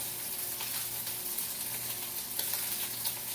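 Swordfish sears in a hot pan on a stove, giving a steady, close sizzle throughout with a few louder crackles and no talking.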